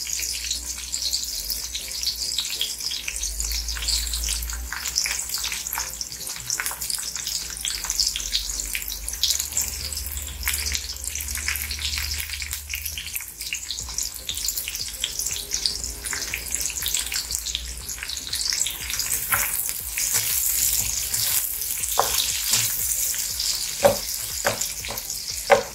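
Onions hit a pan of golden brown fried garlic for pork binagoongan, bringing a steady, loud sizzle with frying crackle that continues throughout without speech.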